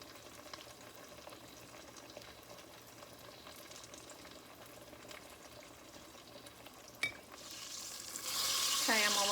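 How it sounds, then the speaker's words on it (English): Food fries in a pan with a soft, continuous sizzle, faint at first and swelling to a louder, brighter hiss near the end after a brief clunk, with no talking. "I am halfway through with frying them"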